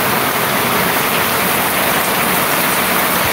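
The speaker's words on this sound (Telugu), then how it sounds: "చూడండి పొద్దున్నే వాన పడుతుంది" Steady, dense rain pours down in the morning at a flooded shop in a village, a loud, unbroken broadband hiss that fills the whole stretch with no voices.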